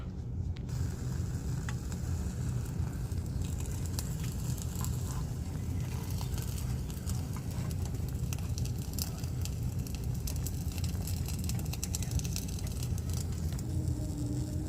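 Eggs for an omelet fry steadily in a pan, a continuous close crackling sizzle with faint pops and stirring noises and no talk throughout.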